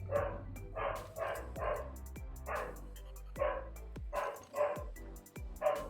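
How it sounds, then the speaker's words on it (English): A pet dog barks in repeated bursts from another room, the sharp yaps fairly loud and rhythmic, over a low steady hum from a computer setup. "I think my dog's barking."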